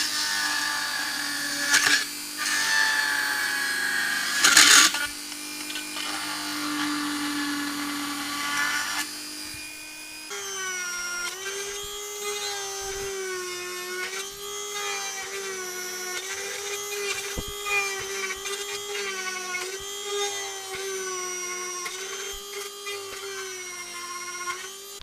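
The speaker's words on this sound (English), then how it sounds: "Fucking worst rotary drill ever." A rotary drill whines and grinds with an uneven, wavering motor pitch through a long stretch of boring, loud and close, with bursts of harsher grinding early on.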